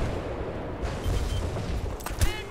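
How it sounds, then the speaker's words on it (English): Gunfire in the video game Battlefield: Bad Company 2 rattles as a dense, continuous fusillade with a few sharper cracks near the end, loud and constant throughout. "I definitely saw a gunfire from up there."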